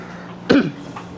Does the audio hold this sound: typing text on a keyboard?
no